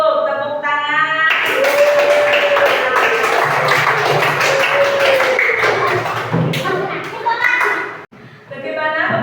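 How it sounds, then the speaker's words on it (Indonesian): A class of schoolchildren claps hands together in a classroom, a dense burst of clapping that runs for several seconds, with a teacher's voice and children's voices mixed in. "Tepuk tangan"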